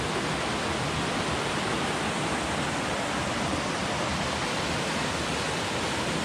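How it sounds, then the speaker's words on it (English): A small waterfall pours into a rocky pool beside a hiking trail, giving a steady, dense rush of falling water that stays close and even throughout, with no voices. "Got a little waterfall there and a pool."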